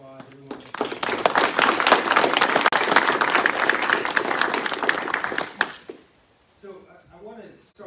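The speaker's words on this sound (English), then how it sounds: "Let's give them a round of applause." An audience at a NATO brigade ceremony breaks into loud, dense applause that swells and holds for several seconds, then fades out as a voice begins speaking near the end.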